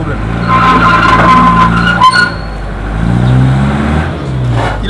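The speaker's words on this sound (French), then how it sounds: "Ah, le bus, ça semble-t-il un problème de poids. Il est trop chargé, il a du mal à sortir." A heavily overloaded bus strains to pull away, its engine roaring and revving loudly and steadily for several seconds, close by, with voices faintly underneath.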